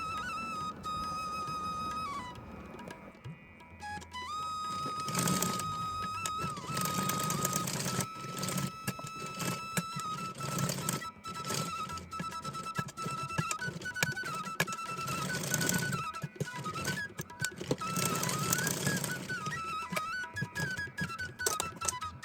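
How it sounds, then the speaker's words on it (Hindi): Sewing machine stitching along the turned-in edge of a lining fabric for a small Laddu Gopal deity dress, a steady mechanical whir running throughout with brief pauses and speed changes, with a high electronic tone over it. "इसके किनारे इस तरह से अंदर करते हुए इस पर भी हमें सिलाई लगा लेनी है ताकि हमारे धागे वगैरह निकले नहीं"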